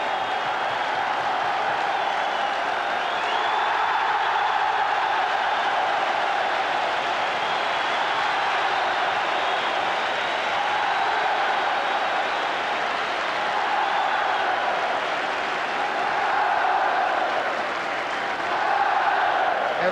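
A football stadium crowd at a Scotland v England match applauds and cheers steadily as Scottish players receive the trophy and mementos, a dense, continuous roar that swells and dips slightly throughout.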